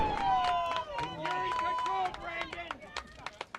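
A high school baseball crowd at a North Hunterdon versus Hunterdon Central finals game cheers and claps after a fly-ball catch in center field, with sustained whoops and a voice carrying over the din before it thins to scattered claps.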